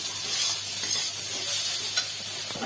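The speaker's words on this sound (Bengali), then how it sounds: "মশলা দেওয়া হয়ে গেছে, আমরা একটা মাঝারি সাইজের টমেটো কুচি দিয়ে দিলাম। এই সব কিছু একসাথে একটু কষিয়ে নিতে হবে।" Spices and chopped medium tomato sautéing in a pan for a spicy fish curry, a steady close sizzle with bursts of stirring scrapes and a brief clink near the end, no voices.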